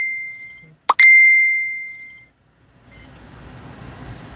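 A phone notification plays a single clear, bright ding that rings out and fades over about a second, followed by quiet room hiss with no speech.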